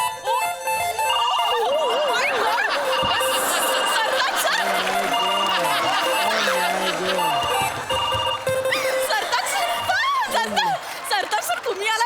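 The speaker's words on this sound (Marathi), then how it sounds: "फोन वाजायलाच लागलेत सर" Several telephones ring in an office scene of a comedy sketch, with overlapping warbling tones running almost throughout, mixed with chatter and laughter from people nearby.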